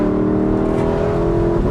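A Lexus LC500 engine drones in a loud, sustained rev with a steady low tone, heard close from inside the car with no talk.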